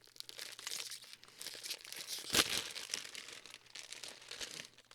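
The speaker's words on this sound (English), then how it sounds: "I pulled a little too hard, so I ripped the bag a little bit." Crinkling plastic of a Licorice Guy cinnamon licorice bag being handled, with one sharp ripping tear in the middle as it is pulled open, close and fairly quiet.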